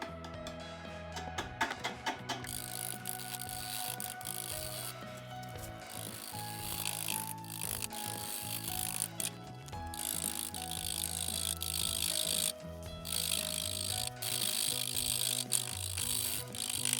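Wood lathe spinning a mimosa bowl blank at 263 RPM, producing a steady close mechanical whir with rhythmic ticking and clicking throughout.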